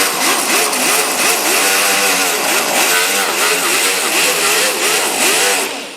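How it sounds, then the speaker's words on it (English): An angle grinder works a crack in a plastic Toyota Prius rear bumper cover, its loud whine rising and falling in quick waves as the trigger is feathered, continuous throughout with no talking. "you kind of want to feather the trigger on your grinder if this is the way you choose to do it"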